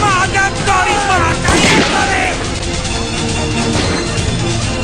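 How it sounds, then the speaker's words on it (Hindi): Gunfire in a Hindi film action scene at a temple, a loud burst of shots and booms crashing over a dense, chaotic mix of shouting voices and background score. "अरे महादेव गोली मारा"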